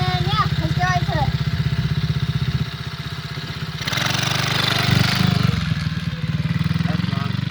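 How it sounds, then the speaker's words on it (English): A dirt bike engine idles and putters close by with a steady low chug, briefly rising in revs, while a person talks over it. "Today I am riding my dirt bike"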